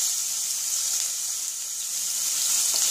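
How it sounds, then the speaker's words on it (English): Chopped ginger and garlic sizzling in hot oil in a pan, a bright, steady close-up frying hiss that holds evenly throughout, with no voices. "hot pan with oil in it. Adding some chopped ginger, chopped garlic"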